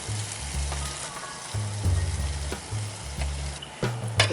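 Beef and potatoes fry in a pan at a campervan, a loud continuous sizzle with spluttering bursts and intermittent low rumbles from stirring and shifting the pan.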